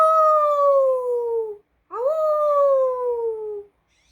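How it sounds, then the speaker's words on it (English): Wolves howl outside a prairie house: two long, loud howls, each sliding slowly downward in pitch and separated by a short pause, with no talking underneath. "Terrible howls curled around the inside of the house"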